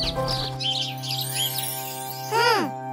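A baby bird chirps in short, high tweets across the clip, ending with a louder descending call near the end, set against a steady tonal hum in the background.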